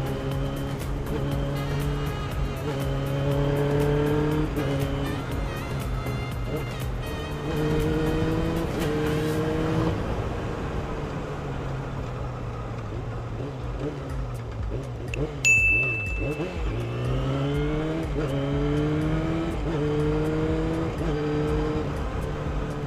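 Yamaha R6 motorcycle engine and exhaust revving and pulling through gears on a road ride, loud and sustained with rising and falling pitch, a lull in the middle, and a brief sharp squeal midway.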